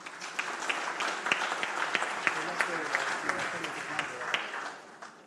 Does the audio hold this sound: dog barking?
no